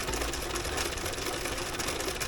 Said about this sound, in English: So you can see I'm sewing a piece of inner tube.